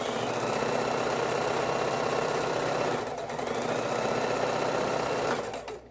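A sewing machine stitching quilt pieces for a girl's room quilt, a steady fast mechanical whir and chatter running continuously, briefly easing around the middle, then stopping at the end.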